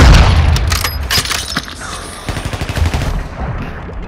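Rapid bursts of gunfire from Call of Duty: Modern Warfare II, loud and close with sharp repeated shots, a short lull, then more staccato firing.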